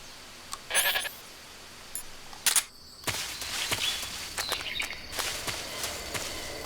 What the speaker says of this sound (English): Oh, I hear footsteps. Is that a goat?